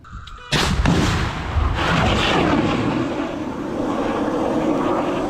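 A sudden, powerful blast of a Stinger anti-aircraft missile launch erupts in combat near Bakhmut, followed by a sustained roaring rush that fills the air and slowly trails off.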